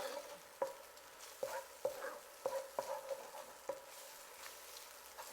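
Garlic fries in oil in a pan with a soft continuous sizzle, broken by about seven sharp scraping stirs at uneven intervals, close and fairly quiet.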